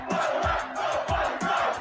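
Stadium crowd cheering and roaring in EA Sports College Football 25, a dense, steady wash of many voices with rising swells and shouts, loud and continuous throughout.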